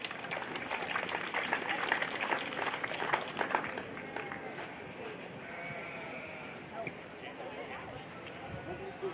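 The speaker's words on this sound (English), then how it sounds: "Give him a huge round of applause as he exits the ring." Crowd applause at a junior livestock show ring, dense clapping that fades after a few seconds into animal bleats, hoof sounds and an announcer talking over the arena.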